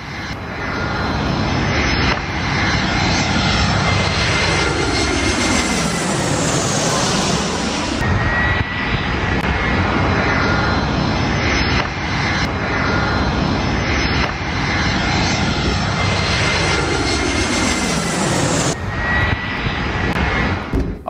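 A loud, continuous airplane engine roar with sweeping tones rises and falls across an AI-generated scene of a bird striking an aircraft.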